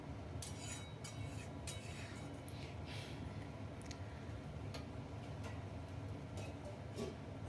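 Quiet, sparse metallic clinks sound as a lid is placed on a cooking pot of Bengali banana-stem (thor) curry in a home kitchen. There is a faint background hum throughout.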